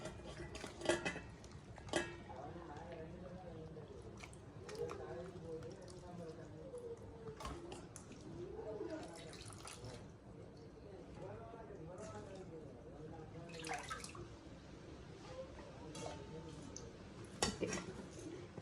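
Cut food being washed in a metal vessel at home, with repeated clinks and knocks of pots and utensils alongside a running voice.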